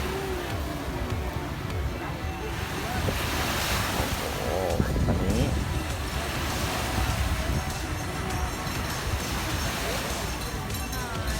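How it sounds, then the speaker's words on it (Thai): A strong, cool wind buffets the microphone on Jomtien beach in Pattaya, roaring steadily over crashing surf for the whole stretch. Voices come through faintly under the gusts. "ลมค่อนข้างเย็นนะครับลมลมแรงด้วยนะครับ"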